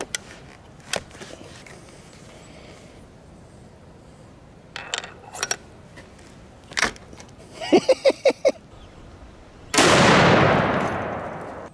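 A 700 Nitro Express elephant gun loaded with a 1,000 grain soft point round is handled, giving scattered sharp clicks and a quick rattle of metallic taps before one loud, booming shot that rings out and slowly fades.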